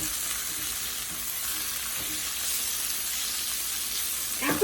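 Masala frying and being stirred in a pan for an egg and brinjal dish, a steady close sizzle with soft scraping stirs throughout and a brief clatter at the end.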